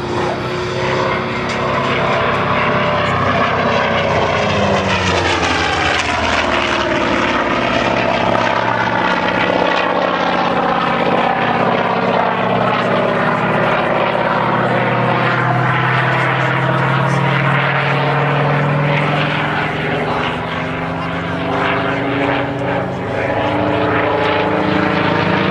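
Aircraft powered by a Wright 3350 18-cylinder radial engine flying at an airshow at East Fortune, a loud, sustained droning propeller roar whose pitch sweeps down as it passes close by, continuous throughout.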